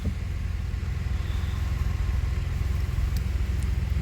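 A crowded minibus engine rumbles steadily nearby with constant low road noise as it passes along a dark street in Dnipro.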